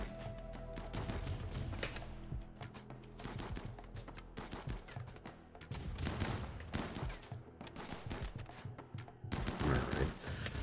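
Faint, rapid gunfire rattles through a firefight in the colony game RimWorld, with a continuous stream of small pops and bursts at low volume.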